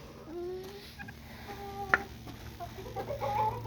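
A chicken clucks softly nearby in a few short, scattered calls over a quiet background, with one brief sharp knock midway.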